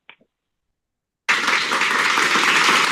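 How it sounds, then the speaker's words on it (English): A room of event guests bursts into sustained applause after a short pause, broad dense clapping that holds steady and loud to the end. "Round of applause."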